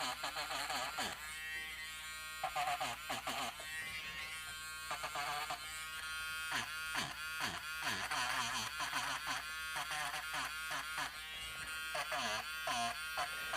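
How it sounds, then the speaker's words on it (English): Airbrush spraying paint while softening freehand work, a steady hiss under a continuous compressor buzz, with repeated short bursts of spraying. "And then I'll go in with the airbrush and kind of soften them up."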